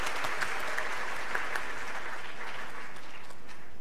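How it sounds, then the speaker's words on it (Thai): A roomful of listeners at a talk claps for a speaker being introduced, a broad dense applause that holds strong at first and then gradually thins and fades toward the end. "ขอเสียงปรบมือให้กับอาจารย์ธงชัยประดับชนานุรักษ์ครับ"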